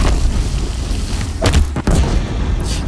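Heavy guns fire in the video game Horizon Zero Dawn, The Frozen Wilds, as loud booms over a dense rumbling background, with two sharper bursts in the middle.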